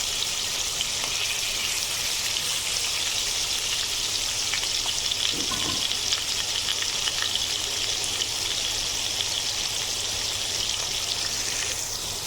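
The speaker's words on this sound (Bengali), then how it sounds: "আমি মাছগুলো খুব বেশি ভাজবো না, একেবারে কড়া করে ভাজবো না, একটু হালকা করে ভেজে নেব।" Hilsa fish fries gently in oil, a steady, moderate sizzling hiss that holds evenly throughout, close by with a faint low hum beneath and no speech.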